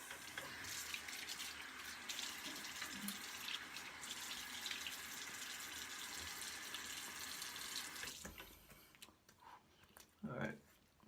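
Tap water runs at a sink and is splashed onto a face before shaving lather goes on. It is a quiet, continuous stream, then breaks into a few short splashes near the end.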